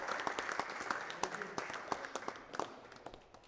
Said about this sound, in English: So give round of applause for Sheroz Shah.